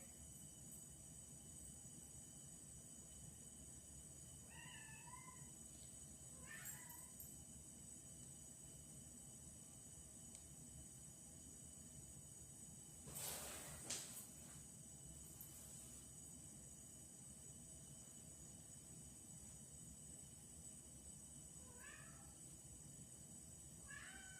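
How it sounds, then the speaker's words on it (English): A cat meows several times, short faint calls scattered through a steady hiss of room noise, with a brief louder rustle midway. "You will hear the cat throughout."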